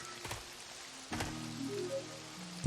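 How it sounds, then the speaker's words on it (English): Light rain patters softly and steadily in the video game Lawless Lands, with a few faint thumps and a brief knock at the end. "A light rain falls."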